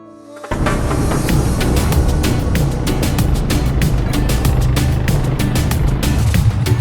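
A loud, steady ATV engine roaring close by through a ride, starting abruptly after a brief quiet moment and holding a constant rumble with rattling bumps, with no talking.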